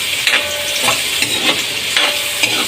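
Fish frying in hot oil, its juices seeping out into the pan: a loud, continuous close sizzle with periodic scraping pulses as it is stirred or shifted, and no voices.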